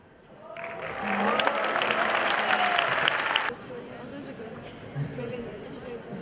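A burst of audience applause at a Denizli police anniversary ceremony swells for about three seconds then cuts off, leaving murmuring crowd chatter and a few faint sounds after.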